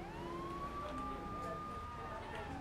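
A police siren wailing in the game GTA 3, a faint, steady rising and falling tone with a quiet engine hum beneath.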